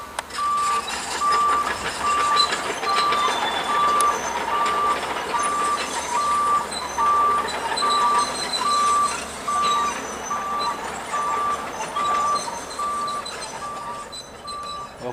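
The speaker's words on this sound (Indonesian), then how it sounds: "Nah, ini ada mobil bulldozer yang lagi meratakan jalan untuk jalan truk muatan tanah nih." At a toll-gate construction site, a bulldozer levelling a haul road for soil trucks rumbles steadily while its reversing alarm beeps in a regular, unbroken rhythm throughout, amid outdoor machinery noise.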